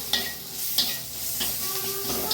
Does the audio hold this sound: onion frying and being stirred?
yes